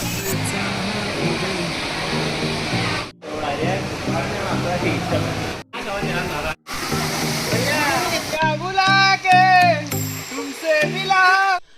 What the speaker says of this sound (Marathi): हा आहे आपल्या मनोदेवीचा धबधबा